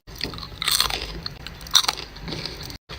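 Crispy hot french fries being bitten and chewed close up, giving a few sharp crunches followed by softer, moist chewing noises, with no talking.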